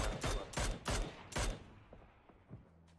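Gunfire from an M4 rifle in PUBG: four loud, sharp shots in a quick, evenly spaced run, each echoing briefly, followed by fainter distant pops as the sound fades.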